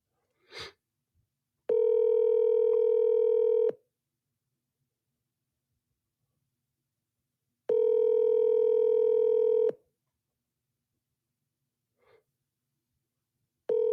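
A phone call placed from a podcast setting rings out unanswered: two long, steady ringback tones several seconds apart, the start of a third at the end, with a brief breath or click before and between.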